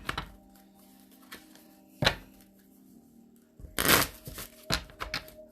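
Moonology oracle cards and Romance Angel cards being shuffled by hand, producing soft, intermittent riffling and tapping bursts with quiet pauses between them, close by and without talk.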